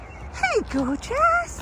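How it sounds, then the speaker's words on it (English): A dog on a coastal walking path yips and whimpers toward goats blocking the way, short rising and falling cries close by, mixed with a person speaking softly. "Don't bark at it."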